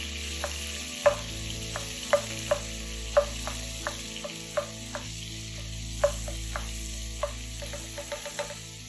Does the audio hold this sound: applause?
no